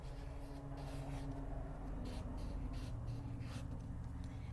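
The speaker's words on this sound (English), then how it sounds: "I'm going to write my first word." Marker or pen writing a single word on a board for a phonics lesson, a steady soft scratching of strokes lasting several seconds with no talk over it.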